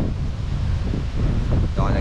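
Steady wind gusts buffet the microphone on a roadside at the dead end of the road at the far tip of the Philippines, a loud rumbling rush, with a voice speaking briefly.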